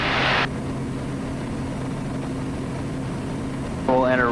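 A Zodiak light aircraft's engine drones steadily and loudly inside the cockpit on a low-level bush flight in Papua New Guinea, with short bursts of voice or radio at the start and end.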